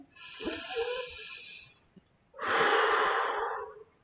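Two deep, audible breaths, a long inhale followed by a fuller, louder exhale, close to the microphone with a brief pause between them and no talking.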